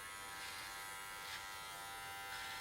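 An electric hair clipper or trimmer buzzes steadily close to the ear while lining up a haircut, a thin continuous hum with no pauses and no speech.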